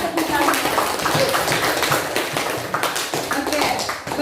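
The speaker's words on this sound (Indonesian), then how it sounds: "Berikan tepuk tangan." Classroom students clapping for a presenting group, a dense patter of many hands at close range, fairly loud and steady, with voices mixed in.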